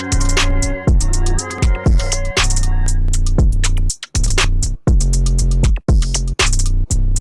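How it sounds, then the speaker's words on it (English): A programmed hip-hop drum loop with layered hi-hats and accented kicks and snares keeps a bouncy, steady groove, loud and close, with a few brief dropouts between bars. "you really have this like dope bounce loop that you can literally put on any beat."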